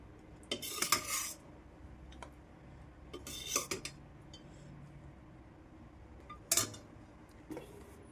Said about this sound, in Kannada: ಈಗ ಒಂದು ಬೌಲ್ಗೆ ಹಾಕ್ಕೊಳ್ತೀನಿ.